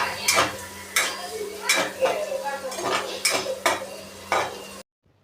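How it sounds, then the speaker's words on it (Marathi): Finely chopped capsicum fries over a high flame in oil and butter, with repeated loud spatula clanks and scrapes against the pan over a soft background sizzle, ending in sudden silence. "आता याच्यामध्ये मी आता हे बारीक चिरलेली शिमला मिरची जी आहे ती एकदम व्यवस्थित अशी फ्राय करून घेणार आहे"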